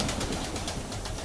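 Chini Kaldum pigeons in a loft give a brief burst of soft, throaty cooing, with several birds murmuring together close by.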